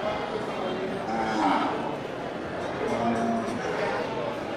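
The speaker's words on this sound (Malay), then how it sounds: "seperti di depan kita ini ya, sapi dari jenis sapi limosin" Several Limousin bulls moo in overlapping, drawn-out calls at a livestock market, against steady background noise, with a couple of louder lows rising above the herd.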